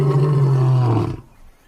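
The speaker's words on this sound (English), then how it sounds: "as soon as lions roar in this park, they all listen" A lion's deep, loud roar in a wildlife park, one sustained, close call with a rumbling low tone that holds for about a second before cutting off into near silence.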